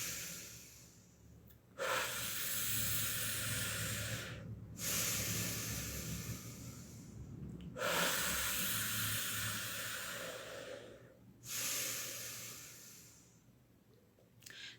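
A person does a vigorous breathing exercise, drawing strong audible breaths in through the mouth and pushing them out through the nose, close and forceful, a few long breaths in a steady cycle.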